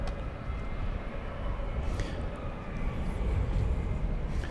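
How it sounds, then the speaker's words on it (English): American flight 1647, a Boeing 737 MAX 8 airliner arriving from Bozeman, Montana, at DFW, a steady low engine roar that builds slightly and holds throughout, at moderate distance. "It's a MAX 8."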